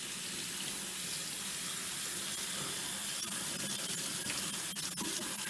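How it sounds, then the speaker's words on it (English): A kitchen sink tap runs in a steady, full gush as chopped vegetables are rinsed under it, a close, continuous wash of water that stays alone with no talking. "So now I'm going to give a quick rinse under the sink here."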